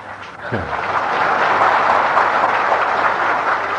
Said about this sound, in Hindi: तालियां तो बजाते हो